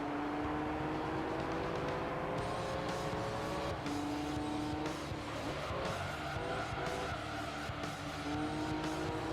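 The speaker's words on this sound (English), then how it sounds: "This sounds like Gran Turismo fast car now." A race car in Gran Turismo 3 on PS2, its engine droning loud and continuous through rising gear shifts, with tire squeal and skidding layered over the steady roar.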